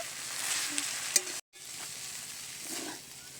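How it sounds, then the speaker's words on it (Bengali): Chow mein being stirred in a frying pan, with a steady close sizzle and scraping stir strokes, broken by a brief silent gap partway through. "চাউমিনটা দিয়ে দিচ্ছি। এবারে নেড়ে চেড়ে নেব।"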